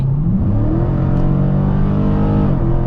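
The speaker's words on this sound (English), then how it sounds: "I just smash down on the accelerator and it puts me in the gear that I want to be in" A 2020 Dodge Challenger Scat Pack accelerating hard from about 60, its engine revving with a loud, rising roar that shifts pitch as it changes gear, heard from inside the car.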